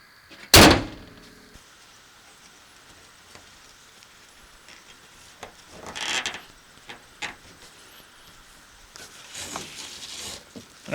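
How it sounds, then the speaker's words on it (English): A vehicle's hood is shut with a single sharp, loud slam near the start, followed by quieter rustling and handling noises with a few faint clicks and bumps. "I'll lift that up and close my hood."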